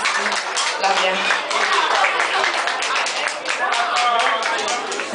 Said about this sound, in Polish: Wielkie brawa dla niej.